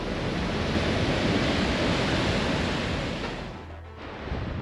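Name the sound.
waterfall with a huge flow of water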